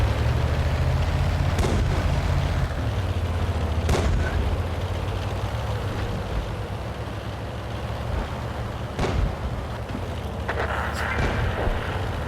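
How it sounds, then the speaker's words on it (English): Artillery in the tank game World of Tanks, heavy booming shots landing every few seconds over a constant low engine rumble, loud and close, with speech at times under the battle noise. "That's our artillery."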